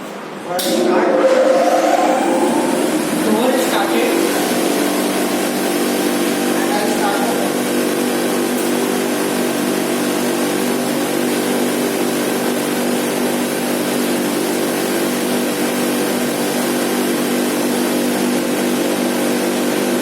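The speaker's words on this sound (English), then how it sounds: "So I have started the blower, I have started the water pump." A blower and water pump run on a laboratory cooling tower rig, starting with a brief surge and then settling into a loud, steady mechanical hum and whir that carries on unbroken.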